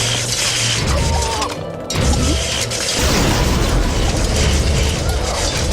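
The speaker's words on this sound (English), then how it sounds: "I love that mage cannon." A mage cannon fires in Hyrule Conquest, a Zelda strategy game, loud, dense mechanical clanking and crashing blasts that roll on continuously, with a short dip partway through before the barrage resumes.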